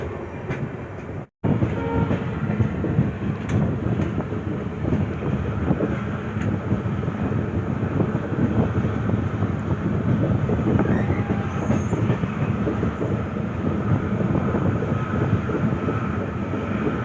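Interior of a general coach on the 19203 Bandra-Veraval Express, a new LHB train, running at speed: a loud continuous low rumble and rattle of wheels and carriage, steady throughout apart from one brief dropout near the start.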